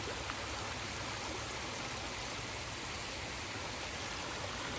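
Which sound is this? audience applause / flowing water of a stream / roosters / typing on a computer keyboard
flowing water of a stream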